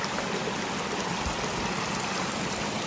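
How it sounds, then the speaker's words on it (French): A small waterfall cascades in a stream, a dense, steady rush of splashing water heard close and continuous without a break. "Une mini cascade."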